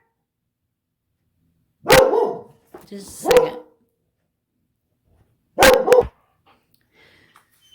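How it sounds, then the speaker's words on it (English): A dog barks sharply a few times close by, separated by pauses, with a brief spoken phrase between the barks. "Oh, my dog is barking."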